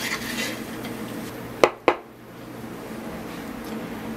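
Home-grown sunflower seeds are stirred in a roasting pan with a soft continuous scraping rustle, broken by two sharp metallic clinks of the utensil against the pan near the middle.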